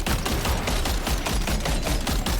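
Sustained automatic gunfire rattles in rapid, evenly spaced bursts at a giant undulating creature in Death Stranding 2, loud and continuous over a dense rumbling background.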